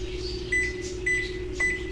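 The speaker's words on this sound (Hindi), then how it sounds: "मैंने इनको रख दिया माइक्रोवेव में और यहाँ से हम पहले इसका डोर बंद करेंगे और हम इसको टाइमर लगा देंगे 30 सेकंड का" A kitchen microwave oven runs on a 30-second timer with a steady low hum, and three short, evenly spaced beeps sound over it.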